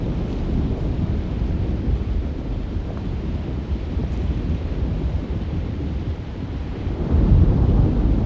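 A thunderstorm rumbles through the Alone in the Dark (2024) game, with deep, continuous low thunder and wind-driven noise that swells louder toward the end. No one speaks.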